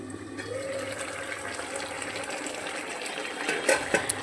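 Water is poured into a cooking pot of malabar spinach stems being prepared with shrimp, a steady broadband splashing and gushing that runs for several seconds, with a few sharper clatters near the end.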